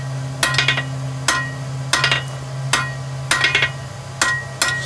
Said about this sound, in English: Just clean it up a little bit at the end of each heat. It's called planishing.